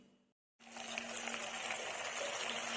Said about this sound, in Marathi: आता आपण तेल गरम करून ह्याला तळून घेऊ